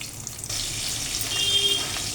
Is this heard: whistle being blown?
no